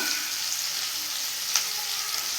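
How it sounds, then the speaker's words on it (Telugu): Tomato pieces go into a pan of onions that are already frying, and a steady hot sizzle with crackling fills the clip up close, with one brief sharper spatter partway through. "ఆనియన్స్ కొద్దిగా వేగినాయండి ఇప్పుడు టమాటో ముక్కలు వేస్తున్నాం"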